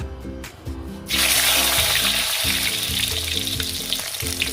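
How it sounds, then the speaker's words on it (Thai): Cinnamon, star anise and whole black peppercorns drop into hot oil for braised pork leg, bursting into a loud, close, hissing sizzle after a quieter second and carrying on steadily, with a faint tonal hum beneath. "ทอดให้หอมแป๊บนึงแป๊บทึงนี่ก็ทอดลงไปแล้ว"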